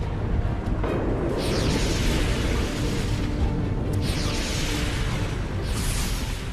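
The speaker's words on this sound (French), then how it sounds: "Des explosions de plus en plus violentes se succèdent." Violent eruption of Krakatoa in 1883: deep rumbling booms and blasts roll on in a dense, continuous roar, with sharper bursts surging in at intervals over the steady low thunder.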